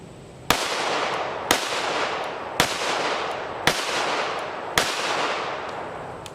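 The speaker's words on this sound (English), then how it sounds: "I'm gonna just shoot a couple side by side" Five sharp, loud pistol shots from a Kel-Tec PMR-30 and a Smith & Wesson M&P 22 Magnum, fired at an even pace about one second apart, each with a short ringing decay and no talking.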